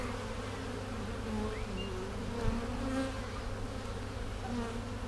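Honey bees buzzing at an apiary hive during a frame inspection, a dense, continuous drone with individual bees passing close, steady and fairly loud throughout, with no talking.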